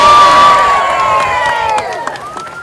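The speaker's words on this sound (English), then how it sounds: "Big round of applause once again." A crowd at a street march in Townsville, Australia cheers and applauds, loud and close, with shouts and whistles over a steady wash of clapping that thins toward the end.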